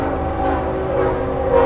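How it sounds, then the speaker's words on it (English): A long train rolls past, a steady loud rumble with tonal squeals and hum from the wheels and cars, continuous throughout with no voices over it. "Jesus, how long is this train?"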